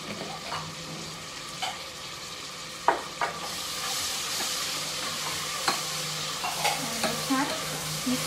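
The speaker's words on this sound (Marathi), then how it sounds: "छान मिक्स करून घ्यायचं आणि फ्राय करायचं." Tomato and garlic paste fry in a pan as a spoon stirs them, giving a soft continuous sizzle with scattered scrapes and taps, fairly quiet and without talk.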